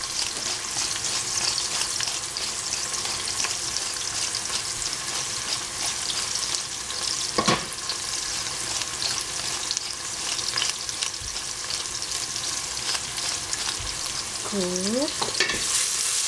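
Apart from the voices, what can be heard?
stir-frying Chinese broccoli with meat in a pan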